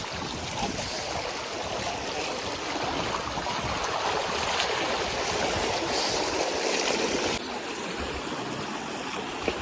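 Steady rushing of a flowing stream, broad and continuous, close by, with a slight shift in tone near the end; no voices.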